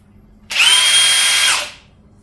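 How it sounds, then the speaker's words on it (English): A Bosch 18V cordless drill spins up sharply with a high, steady whine for about a second, then cuts out abruptly as its anti-kickback protection kills the motor, loud and close with no talking. "we simulate a kickback, it should kill the drill and save my wrist"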